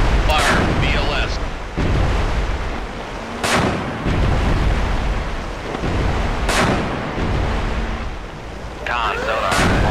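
A series of Tomahawk missile launches from the vertical launch system of the destroyer DDG-78 in the naval game Cold Waters, with five loud, sharp blasts spaced a few seconds apart over a continuous heavy rumble.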